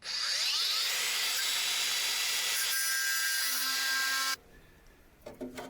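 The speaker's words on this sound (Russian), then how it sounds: "Пилим." A Makita power saw cuts loud and close for about four seconds, a harsh, continuous buzzing rasp, then stops abruptly, followed by quieter knocks and handling sounds.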